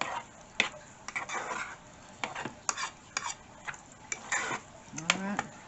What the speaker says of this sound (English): And then stir that around till it gets kind